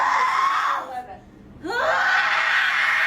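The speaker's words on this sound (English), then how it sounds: "this woman is screaming that she's in pain" A woman in childbirth at a hospital screams in pain: a loud drawn-out wailing cry that breaks off briefly, then rises again into another sustained scream.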